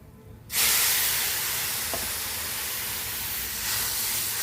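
Ivy gourd frying in a pan after a splash of water goes in, bursting into a loud, steady steaming hiss and sizzle that holds strong and close for several seconds.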